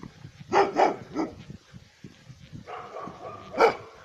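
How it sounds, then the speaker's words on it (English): Dogs bark in several sharp bursts with softer whimpering and yips between them, close by outdoors during an evening house visit in Poland, with no talk over them. "Dogs are always happy to see me."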